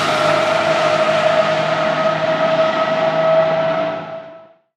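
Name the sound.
car engine in video game Forza Horizon 5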